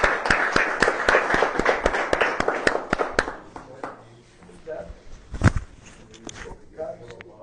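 A church congregation claps in a quick burst of sharp, loud slaps for about three seconds, then the clapping thins to scattered claps and a few knocks, with voices in the background.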